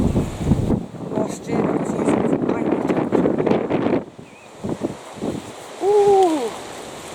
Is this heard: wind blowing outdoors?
yes